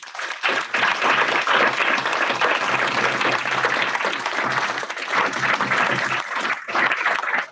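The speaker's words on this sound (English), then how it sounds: "I hope you'll join me with the round of applause for our guest" Sustained audience applause at the close of a talk on police brutality and surveillance, dense steady clapping lasting several seconds, briefly dipping and then resuming toward the end.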